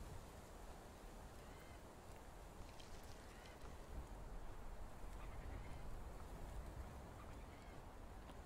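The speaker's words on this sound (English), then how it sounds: "There's the birds you were talking about that are not my friend." Ducks quack in the survival video game Fountain of Youth, a faint, scattered chorus of calls over a steady wash of wild ambience, with no voices.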